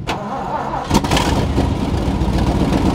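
A 1988 truck's 7.5-liter 460 big-block V8 with no exhaust cranks and fires up, then settles into a loud, rough, rumbling idle close by.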